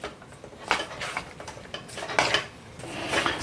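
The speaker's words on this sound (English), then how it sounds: "we're just going to give it a stir over" Fish pieces are stirred with corn flour in a bowl for a Thai pan-fried fish dish, giving soft scraping and clinking of a utensil against the dish in irregular bursts, close and fairly quiet with no talk.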